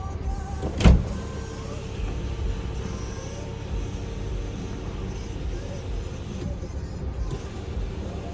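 A car's panoramic roof motor runs, giving a steady low electric whir and hum that continues for several seconds after a short bump near the start, with faint cabin background and no clear talk.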